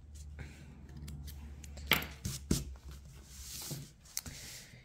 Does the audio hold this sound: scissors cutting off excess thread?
yes